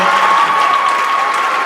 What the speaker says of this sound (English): Everybody clap it up one more time for that.